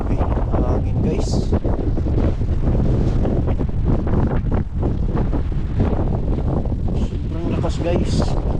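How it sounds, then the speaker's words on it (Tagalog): Strong gusts buffet the microphone outdoors at a Toronto market, a heavy constant roar with bursts, while a person talks loudly over it throughout. "Sobrang hangin, malakas."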